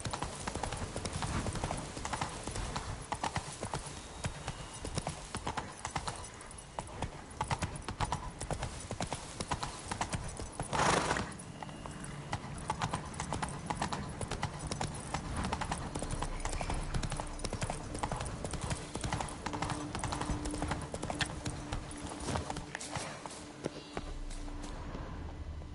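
Roach, the horse in The Witcher 3, gallops with quick, relentless clip-clop hoofbeats that run throughout and are briefly broken by a sharp burst near the middle. The sound is close and fairly loud.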